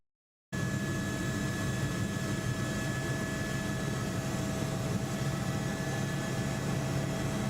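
Helicopter flying over the Rhône valley and around the Matterhorn, a continuous loud, steady rotor and engine drone heard from inside the cabin, unbroken after a brief silent start.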